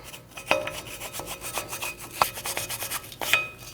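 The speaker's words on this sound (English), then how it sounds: "Before you put your rotor on, you want to clean this mating surface. You can use a wire brush." A wire brush scrubs the hub mating surface of a 2012-2021 Nissan NV2500 front brake. The scraping is close, in short rhythmic strokes, with several sharper metallic scratches. No one talks over it.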